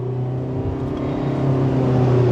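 A 2025 Toyota Prius Limited's 4-cylinder engine drones steadily under acceleration, its hum rising slightly in loudness and pitch as the car pulls past a truck, heard from inside the cabin.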